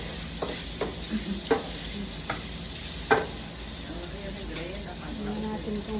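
Beef sautéing in oil in a pan for mechado, a low steady sizzle under a few sharp clinks and taps of a utensil stirring against the pan.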